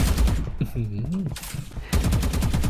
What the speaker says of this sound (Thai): กูโดนเมทิกยิงใส่ กระโดดยิงนี้เลยเหรอ